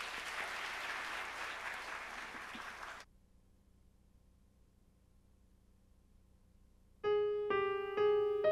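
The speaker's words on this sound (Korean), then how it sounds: "박수로 함께 맞이하도록 하겠습니다" A church congregation at a special dawn revival service claps for about three seconds, a dense, full round of applause that cuts off into near silence before sustained musical tones begin.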